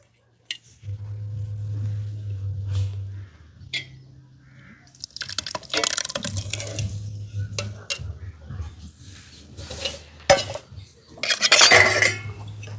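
Ground lentils stirred into cooked mutton in a pot for haleem: a metal spoon scrapes and clanks against the pan in repeated bursts, with brief pauses and a low hum between strokes.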